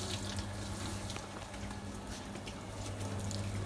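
Continuous rushing spray of water hitting a car being washed, steady and fairly loud throughout.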